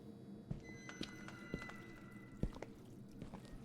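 Footsteps thud at an irregular pace in a horror video game, several soft heavy steps over a steady low ambience with faint high tones in the background.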